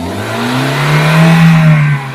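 Hyundai i10 Asta top-end car engine revving as the accelerator is pressed, a loud close steady hum that swells mid-clip and eases off near the end, with no talking.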